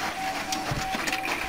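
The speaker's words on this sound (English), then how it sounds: "Here I'm going to print the odd pages." A printer with no duplex support runs the odd pages of a manual two-sided print job, giving a steady close mechanical whir with faint clicking and feed noise throughout.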